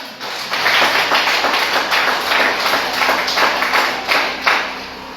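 A church congregation applauds in a steady, dense wash of clapping that fills the room, continuous and fairly loud for several seconds.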